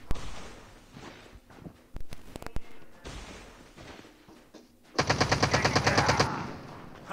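Bursts of automatic gunfire from the mobile shooter game Call of Duty Mobile, with scattered single shots early on and a dense rapid volley near the end, heard through game audio.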